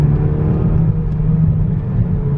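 A 2019 Mercedes A-Class engine held at full throttle, giving a steady, loud low rumble and whir from inside the cabin, with no talking.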